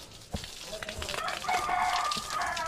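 Chickens on a Filipino hillside farm, including a hen, cluck and crow in short, overlapping calls. The sounds come at moderate distance over a steady outdoor background.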